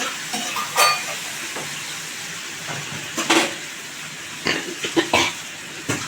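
Boiled hog plums stirred in a hot pan, a soft steady sizzle with a few scraping and clinking stirs of a utensil against the pan, close and fairly quiet, no talking.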